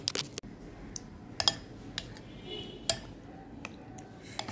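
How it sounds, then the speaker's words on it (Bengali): Sago pearls being stirred into milk in a bowl, heard as a spoon giving sparse clinks and taps against the dish, with soft, wet stirring in between. "সাবুদানাটা দুধের মধ্যে মিক্সড করে নেব।"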